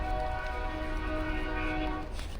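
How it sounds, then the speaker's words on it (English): A train horn blows a sustained chord of steady tones, moderately distant and holding for the whole moment against low rumbling rail noise, with no talking. "Is that mean old train conductor making his horn too loud for you, Bubba?"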